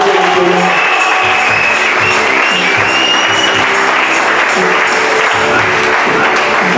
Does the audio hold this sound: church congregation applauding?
yes